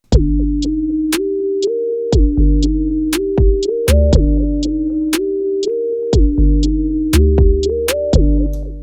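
An electronic beat with punchy drum hits and a stepping synth bassline plays in a steady, looping groove, loud and up front.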